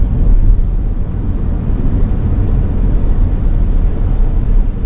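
An electric Ford F-150 Lightning pickup driving, heard as a steady low rumble of road and tire noise with a faint hiss of wind, no engine note, constant and close throughout.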